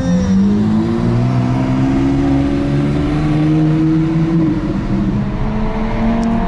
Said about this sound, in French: Moteur en marche sur la i8 et on va faire un petit tour derrière le safety car.